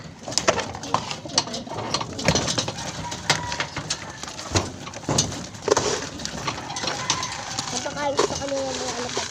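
Pigeons being fed outdoors, soft cooing and flutters mixed with clatter and someone talking over them throughout, the birds close and busy.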